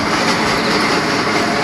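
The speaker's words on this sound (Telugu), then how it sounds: "ట్రైన్ అయితే మిస్ అయిపోయినాం" Passing train in the Indian Theft Auto game, heard as a loud, dense, continuous rumble of rail cars for a brief moment with no talking.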